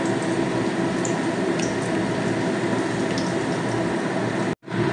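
Cauliflower pakora batter is stirred and mixed by hand, a wet, squelching churn that runs steadily and stops abruptly near the end.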